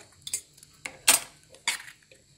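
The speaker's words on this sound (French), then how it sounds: "il faut mélanger les ingrédients dans une casserole" Several sharp metallic clinks and scrapes of a utensil against a saucepan while mixing eggs and other cake ingredients, spaced irregularly with quiet gaps between them.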